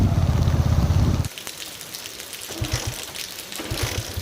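Steady rain patters on a surface outdoors during a journey by vehicle. A low engine-like rumble fills the first second, then the drumming rain continues with short bursts of heavier drops.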